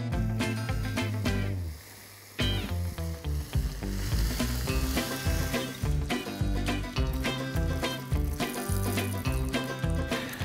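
Thin slices of smoked Black Forest ham sizzle in a hot frying pan, a steady close crackling hiss under loud continuous background music, with no one speaking.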